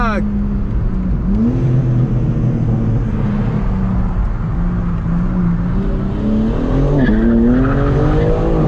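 A 2021 BMW M4 Competition drifts through a corner, tires squealing and skidding loudly over a revving engine, with talk running underneath throughout.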